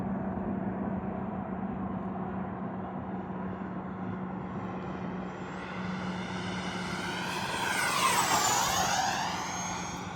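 A Freewing F22 90mm EDF RC jet on a 6S battery at 75 to 100% throttle gives a steady, loud ducted-fan whine that swells and sweeps in pitch as it makes a close pass near the end.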